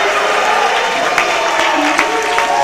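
A high school boys basketball crowd roars and applauds in a gym right after a made three-pointer, with steady cheering, scattered claps and a commentator talking over it.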